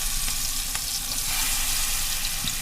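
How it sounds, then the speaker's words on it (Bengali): Shrimp coated in turmeric, chili powder and salt fry in very hot oil, giving a steady, dense sizzle that holds at the same level the whole time. Faint clicks sound now and then, and no one speaks. "এখন ভাজবো এগুলারে।"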